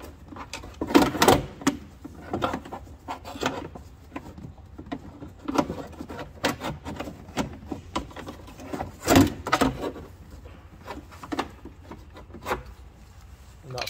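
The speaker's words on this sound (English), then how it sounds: "you've just got to sort of manipulate it and work it to get it out of the hole on the back of the door" A car door window regulator is worked and manipulated out of the hole in the back of the door, giving irregular scraping, rubbing and knocking sounds, close and intermittent.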